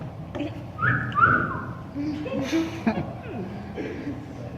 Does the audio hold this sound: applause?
no